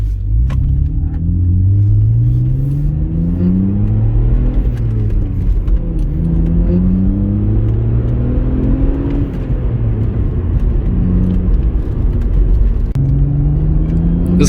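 A manual BMW E46 wagon drives along with its engine droning loud and steady from inside the cabin, its pitch climbing through the gears and then dropping at each shift, over a constant road rumble.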